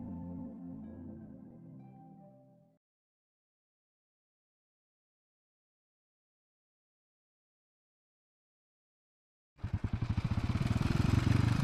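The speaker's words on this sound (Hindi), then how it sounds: "ताहिरी अपनी बाइक लेकर कहीं जा रही थी।" Motorbike riding sound effect for a Hindi romance audio drama: after a stretch of talk and silence, a loud, steady engine roar with rapid pulsing firing rhythm bursts in near and continuous.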